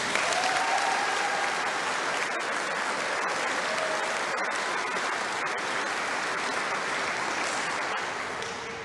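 Sustained audience applause at a summer nursing pinning ceremony for accelerated BSN students, a steady dense wash of many hands clapping that holds evenly and tapers slightly at the end.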